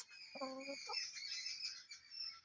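Chickens and ducks in an open yard, a short clucking call from a hen standing out over a steady background of high chirping, fairly faint and without talk.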